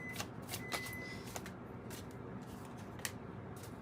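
A deck of tarot and oracle cards is shuffled in a quiet room, soft riffling flutters and crisp card snaps coming in irregular bursts, close and fairly faint.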